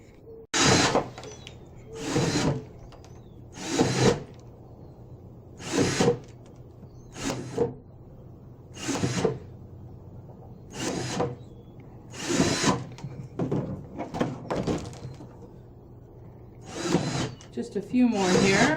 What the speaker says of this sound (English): I'm going to take and drill about 5 holes on each one of these lines, just eyeballing it